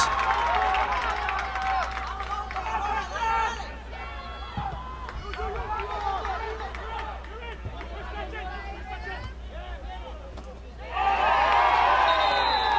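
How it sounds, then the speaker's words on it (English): Spectators at a boys' under-17 youth soccer semifinal, a USA Cup playoff match, make continuous crowd noise and chatter throughout. The sound swells into a loud roar near the end, with a commentator's voice over it. "we will have a roar coming from the crowd here"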